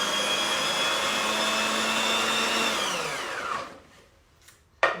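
A kitchen blender blitzes a sticky carrot cake bliss ball mixture with melted coconut oil, a loud steady motor whine that winds down and stops after about three seconds, followed by a couple of faint clicks and a sharp knock.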